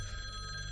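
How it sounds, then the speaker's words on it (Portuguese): A telephone rings steadily and moderately loud through the whole short moment, with a continuous electronic bell tone and no voices. "Atende o telefone, anda."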